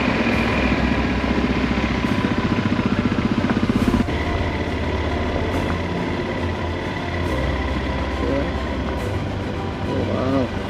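Motorcycle engine running steadily near a beach stop on Campobello Island, a loud continuous rumbling drone throughout with no clear talk.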